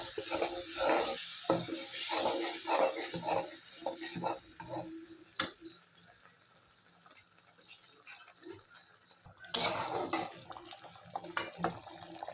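Mustard paste and slit green chillies for a katla fish dish sauté in a pan, with a steady sizzle and rhythmic scraping strokes of a spatula, plus a louder hiss flaring near the end.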